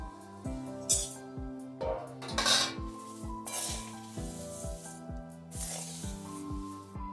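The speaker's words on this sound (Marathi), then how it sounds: "ह्यामध्ये पोहे मिक्स करून घेते" A spoon or spatula stirs roasted poha flakes in a metal pan for white chivda, giving a series of close, repeated scraping clinks against the pan along with rustling flakes, with no talk.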